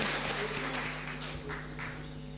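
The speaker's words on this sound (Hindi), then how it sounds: "एक बार तालियां बजाए" An audience at a Hindi comedy poetry show gives brief applause, a short burst of clapping over a low hum.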